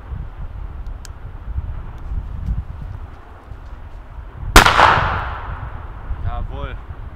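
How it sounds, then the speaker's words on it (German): A Weco Pyrocracker firecracker from the 1988–2020 range goes off in a single sharp, loud bang outdoors, followed by a decaying echo, with light wind and faint background noise before it. "Sagenhafte Knaller."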